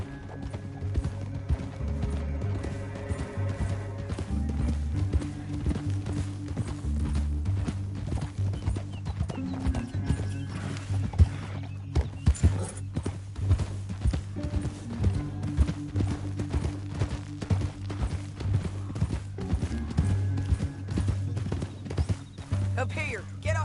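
Steady, rhythmic hoofbeats of galloping horses carry on throughout, set against music and occasional game sounds, in the video game Red Dead Redemption.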